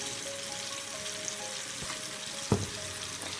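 Potatoes fry in hot oil in a pan, giving a steady close sizzle with a few light scrapes and one sharper clink.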